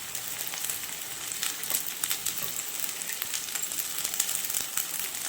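Pennywort greens with small onions frying in a pan, a steady close sizzle with scattered crackles and pops running the whole time, no voices.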